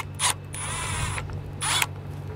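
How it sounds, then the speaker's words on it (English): Small screws are worked loose from a backup camera base on a 2020 Taxa RV, giving two short bursts of tool whirring with a higher steady whine between them, close and clear with no speech. "I'm gonna pop off the cover here, and then I'm gonna start unscrewing our camera base."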